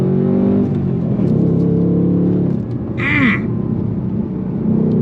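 A 2024 Ford Mustang GT V8 with the performance pack, engine note droning steadily and close, with a brief higher-pitched swell midway as the throttle is blipped.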